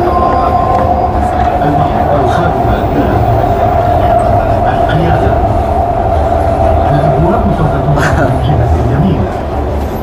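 A Dubai metro train pulls away from a station, a loud steady rumble and hum of the moving carriages with a droning tone throughout and faint voices in the car.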